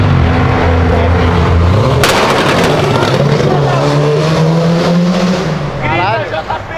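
A Volkswagen Jetta TSI revs hard as its turbo fails, a loud, strained engine roar holding steady and then rising, with a sharp burst near the two-second mark and excited voices shouting over it.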